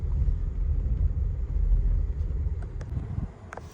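Car climbing a slippery, steep narrow off-road track through bushes toward a Maratha hill fort, its low engine rumble steady and close with wind buffeting throughout, easing slightly near the end.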